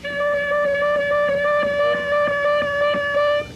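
One sustained harmonica note lasting over three seconds, its pitch wobbling loosely from a wiggling tongue and never reaching a real bend, with faint breathy pulses through it and no speech.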